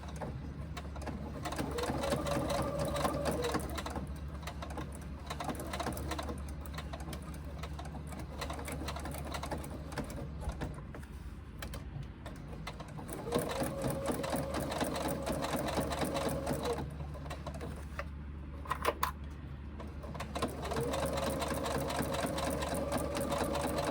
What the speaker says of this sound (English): sewing by the edge of this top piece, not by the edge of the card slots underneath